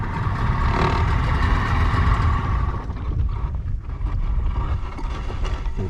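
A small boat's outboard motor runs steadily as it moves through very shallow water near a remote island, a loud continuous engine drone with some water wash and slight dips in level.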